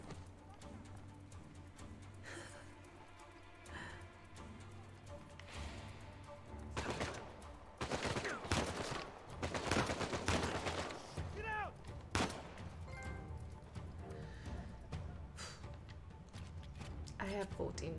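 Gunfire in Uncharted 4 sounds in scattered shots and short bursts over game ambience and music, and a voice speaks at points between them.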